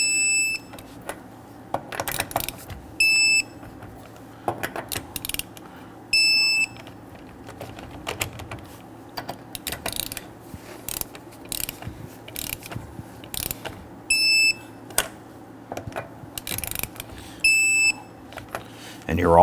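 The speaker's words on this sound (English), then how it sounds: "Now let's go ahead and torque down our lug nuts to 100 foot-pounds." Torque wrench tightening lug nuts on a 2010-2019 Ford Taurus, a series of close ratcheting clicks in repeated bursts, with short high beeps recurring throughout and a voice talking underneath.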